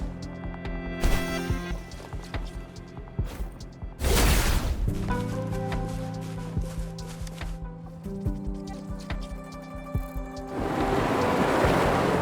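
Water surges and rushes away as it recedes in the video game Wuthering Waves, a broad swelling wash under sustained musical tones, building loud near the end.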